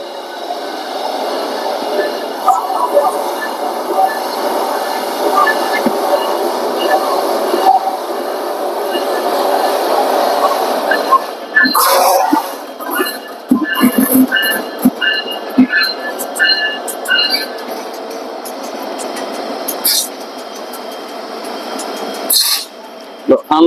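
An intercity train from Dhaka pulls into a quiet station platform, a steady rumble at first, then clanks, squeals and bursts of rattling as it draws near, with people talking over it.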